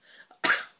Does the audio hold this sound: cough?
yes